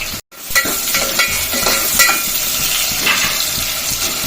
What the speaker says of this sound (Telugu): ఆయిల్ వేసేసి ఆయిల్లో ఉల్లిపాయ పచ్చిమిర్చి వేసేసిన